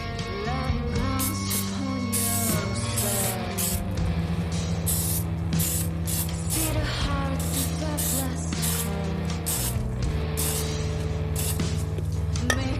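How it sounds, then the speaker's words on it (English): Filter oil sprayed onto a motorcycle air filter in short repeated hissing bursts, close and fairly loud, with a steady hum and small clinks underneath. "take our filter oil, our filter, and go ahead and just spray a very,"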